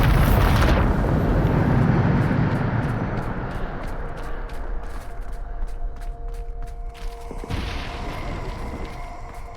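Bombarda explosion spell in the Hogwarts Legacy video game, a loud booming blast at the start that rumbles and decays over several seconds, followed by scattered crackles and a second, smaller burst.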